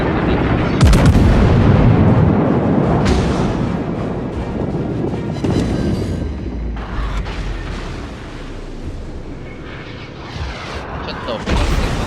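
Battleship gunfire in the World of Warships naval video game, with heavy booming salvos and rumbling blasts over a dense, continuous roar of battle noise that stays loud throughout.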